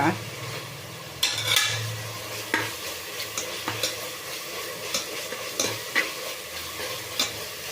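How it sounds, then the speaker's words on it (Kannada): Vegetables for pulao fry in a pan, a continuous sizzle under regular spatula stirs and scrapes against metal, close and fairly loud, with a low hum at the start. "ಈಗ ಇದಾಗಿದೆ ತರಕಾರಿ ಹಾಕ್ಕೊಳ್ತಾ ಇದ್ದೀನಿ"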